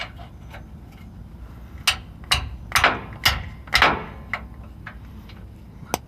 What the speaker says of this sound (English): even me hitting it with a hammer